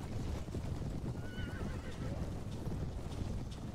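Horses neigh and hooves clip-clop in the medieval battle game Mount & Blade: Warband, with a whinny standing out midway over a dense, steady wash of battlefield noise and galloping.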